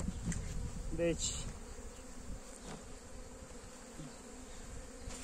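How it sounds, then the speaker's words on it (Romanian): A swarm of honeybees at an apiary fills the air with a dense, continuous buzzing, with individual bees passing close; someone briefly speaks over it. "sunt sigur că acest roi este din stupina mea"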